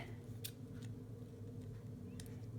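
Scissors snip through sticky paper for a junk journal embellishment, a few short, faint cuts spaced irregularly over a low steady hum.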